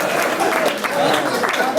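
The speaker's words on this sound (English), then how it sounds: "I want a big round of applause for Vinnie Dino" An audience at a Grandsons of Italy Man of the Year banquet claps for a newly elected water district director, steady moderate applause with some voices mixed in over the short stretch.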